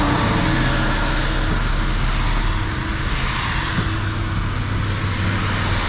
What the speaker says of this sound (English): There's that big semi truck.